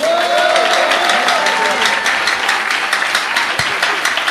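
Church congregation applauding and cheering together in sustained, dense clapping that fills the room and never pauses.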